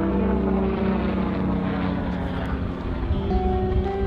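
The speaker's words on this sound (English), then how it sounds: "Helicopter, hold on." A helicopter flies overhead outdoors, a steady, loud rotor and engine drone with low thrumming tones that holds evenly throughout with no talking.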